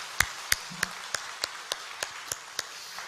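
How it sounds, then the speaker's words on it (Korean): A Korean church congregation claps in a slow, steady unison rhythm, about a dozen sharp evenly spaced claps at moderate loudness over a quiet hall, with a brief low murmur near the start. "하나님께 영광의 박수를 한번 올립시다"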